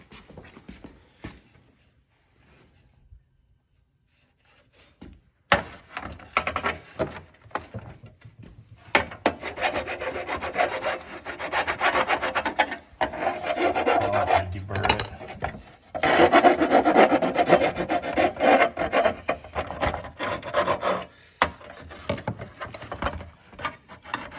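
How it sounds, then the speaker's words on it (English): A drill grinds and partly melts through plastic in bursts while installing an LED light bar, with scraping and rasping between short pauses, close by and moderately loud. "Well, that's what happens when you drill through plastic."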